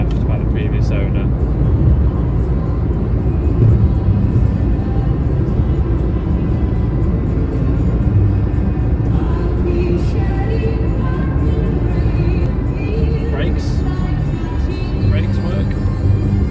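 Inside a Toyota iQ driving through Liverpool, steady engine drone and road rumble fill the cabin at a constant level while a person talks over it throughout.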